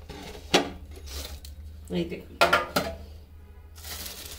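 A home-made chicken vegetable bread, cooked on a stovetop, is tipped from its pan onto a plate with a few sharp clanks and knocks of metal and crockery, spaced apart, while a voice talks between them.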